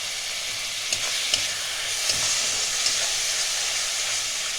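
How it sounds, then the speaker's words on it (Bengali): Masala for a Bengali Bhola fish curry fries in a pan with a steady, close hiss and sizzle, broken by a few soft scrapes of stirring, with no voices. "এটাকে আরেকটু ভাজবো। আমি 2-3 চামচ একটু জল দিয়ে দিচ্ছি।"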